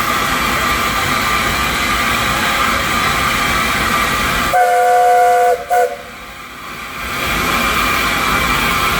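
Steady loud steam hiss and rail rumble, broken midway by a brief whistle tone before the roaring train noise swells back in.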